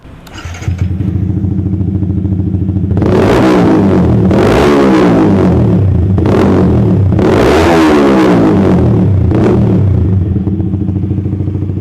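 A Yamaha XSR 155 motorcycle with a stainless exhaust idles with a deep rumble, then revs sharply several times, the exhaust roaring up and dropping back, loud and close.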